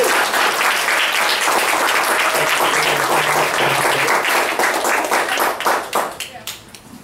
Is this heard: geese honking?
no